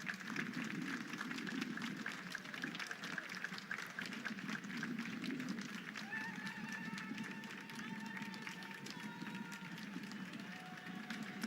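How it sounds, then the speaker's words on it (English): A large crowd in St. Peter's Square applauds and calls out as Pope Francis arrives for a general audience at the Vatican. The clapping and crowd noise form a steady, distant wash that runs throughout. "and the applause as the Pope arrives"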